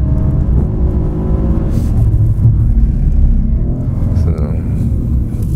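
A Mercedes-AMG C 63 S rumbles steadily around a race track, its engine droning loud and close beneath someone talking in German throughout.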